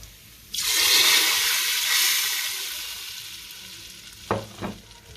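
Sudden loud sizzle as hot golden oil tempering hits mixed chana and urad dal, hissing strongly then fading, followed by a couple of brief clanks of a utensil.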